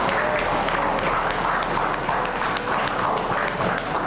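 A classroom gives a student a round of applause: dense, steady clapping from a small group, continuous and fairly close, with no speech over it.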